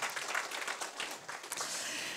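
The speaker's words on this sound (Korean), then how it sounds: "다시 한 번 더 큰 박수 부탁드리겠습니다" Quiet applause fills a cybersecurity performance presentation event in a hall, a soft, even spread of clapping that carries on without a break.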